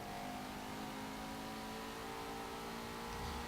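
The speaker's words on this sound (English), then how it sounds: "Just the engine noise alone is worth it for this car." Ford Mustang in the racing game Forza Motorsport 7, its engine holding a steady, loud mid-pitched drone with a sustained revving tone and no talk over it.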